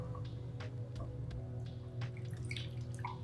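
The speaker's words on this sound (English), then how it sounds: "I'm going to go ahead and pour my cold brew into the glass." Cold brew coffee poured into a glass of ice cubes, with soft drips and trickles over a steady low hum in the room.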